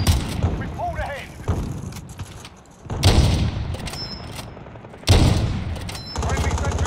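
Gunfire in Call of Duty: Warzone comes in loud bursts and scattered shots, with booms and mechanical clatter, and voices speak between the volleys.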